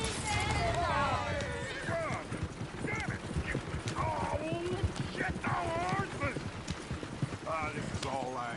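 Horse hooves clip-clop steadily in Red Dead Redemption 2, close and continuous, while voices talk over the hoofbeats throughout.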